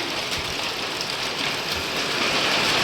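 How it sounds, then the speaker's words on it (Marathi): Heavy rain pours steadily on all sides around a farmhouse during the rice harvest, a dense, continuous hiss with no let-up from start to finish. "जोरदार पाऊस चालू झालो आता बघा चारही बाजून पाऊस पडता"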